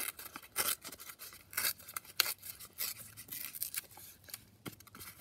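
Glued paper bag strips are torn by hand in short, dry ripping bursts with brief pauses between, close up and alone, with no voices.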